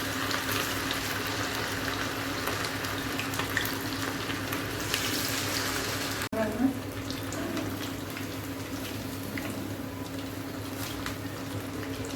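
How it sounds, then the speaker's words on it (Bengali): Chicken pakoras frying in hot oil, a steady dense crackling sizzle running throughout with a low hum beneath, a brief sharp clatter near the middle as something is moved. "এখন আমি এগুলো একটা একটা করে সব ফ্রাই করে নেব।"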